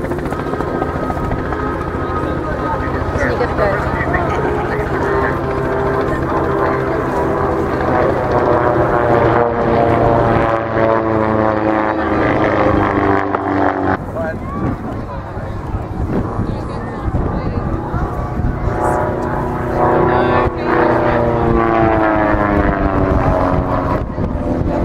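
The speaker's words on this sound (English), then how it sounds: "There's no sound quite like it, is it? The Spitfire" A Supermarine Spitfire flies aerobatics at the Barossa Air Show, its piston engine giving a loud, continuous droning roar that swells and shifts in pitch as the aircraft climbs and dives overhead.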